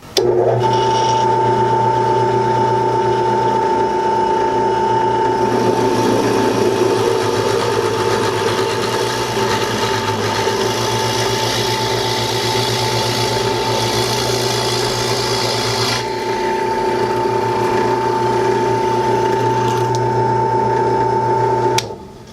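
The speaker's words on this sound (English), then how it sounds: "We'll put a bigger one in and drill another hole in this piece of scrap." A steady mechanical whine with a strong hum runs continuously and loudly from a WEN 4210 drill press, overlaid with a grinding, rasping bite as the bit cuts into scrap wood.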